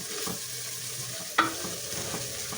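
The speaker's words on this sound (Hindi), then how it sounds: "मसाले को हमने बहुत ही अच्छे से भूनना है।" Spice masala fries in a pan for a chana dal with almonds, a steady close sizzle broken by light stirring scrapes and one sharp utensil knock, with no speech.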